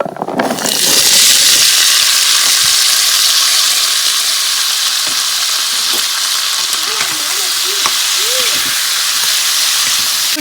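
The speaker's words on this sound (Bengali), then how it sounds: "ভাজা করব কড়াইতে তেল দিয়ে দিয়েছি তেলটা গরম হয়ে গেছে" Cut vegetables frying loudly in hot oil with panch phoron in a wok, a strong continuous sizzle and hiss with occasional stirring scrapes throughout.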